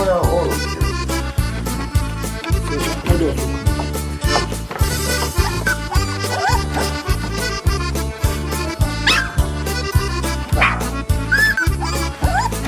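Sheepdog puppies a few weeks old and adult dogs on a Carpathian sheep farm bark and yip repeatedly in a busy, rhythmic stream, with higher puppy yelps mixed in over steady music-like background.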